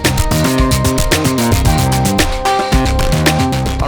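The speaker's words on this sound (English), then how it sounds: "That's our wavetable going into the snappy in." A Piston Honda wavetable oscillator feeds the snappy input of a Hexinverter Mutant Machine, producing a loud, busy electronic drum pattern of quick hits with shifting pitched tones, steady and unbroken, with no talking.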